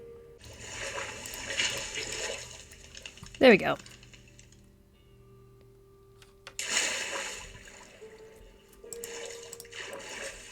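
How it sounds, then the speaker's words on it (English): Water rushes down in a video game after a gravel pillar is removed, coming in several separate splashing bursts with quiet gaps between them. A short spoken remark comes in the middle. "Sit here and stare at it until all the water comes down."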